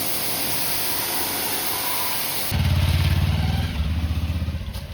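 A Pulsar motorcycle engine revving, a steady hiss giving way midway to a loud, close, throbbing engine roar that pulses unevenly until the end.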